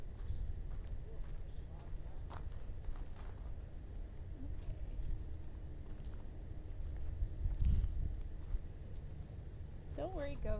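Goats walking close by on an outdoor mountain slope, their hooves making soft, scattered clopping steps over a steady background of insects and wind, with a person talking quietly nearby.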